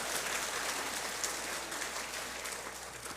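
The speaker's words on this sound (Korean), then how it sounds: "이럴 때 박수를 보내주시면서 휘파람까지 날리시는 분은 복될지어다." Steady, dense applause from a church congregation during a morning service, continuous throughout with a hissy, rain-like texture and no voices standing out.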